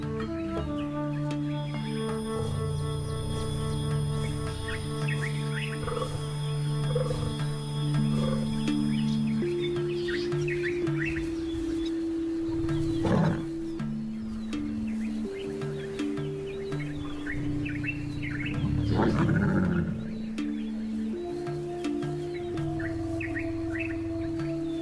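Lions on the African savannah during courtship, around a lioness in heat, give deep moaning roars and grunts, with two louder bursts mid-clip over steady background tones and bird calls, without talking.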